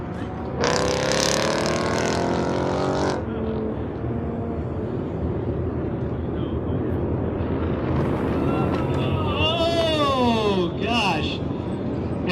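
A Mazda Miata Street-class race car runs an autocross course at Auto Club Speedway. Its engine revs rise and fall in sweeping bursts at close range, with a voice talking over the engine.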